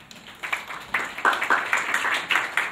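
A church congregation gives applause, sparse at first and then building into a moderate patter of claps that stays fairly quiet and somewhat distant.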